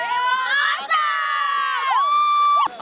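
A festival crowd of about 400 at a youth volunteerism music event shouts and cheers in high, sustained voices that rise and fall, loud and close, with one brief dip.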